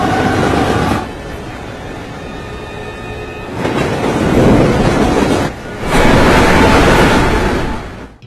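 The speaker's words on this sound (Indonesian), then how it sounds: "Kereta pun tidak dapat berhenti dan terus melaju ke arah jalur yang tidak terpakai." A runaway train speeding along the tracks without stopping, a loud continuous roar and rumble that swells and fades in surges, as if cars were rushing past close by.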